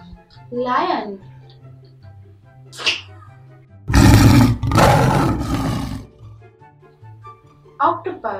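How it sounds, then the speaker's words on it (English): A lion gives two loud, rough, close roars lasting about a second each, over a looping musical backing with a voice speaking briefly before and after. "Lion."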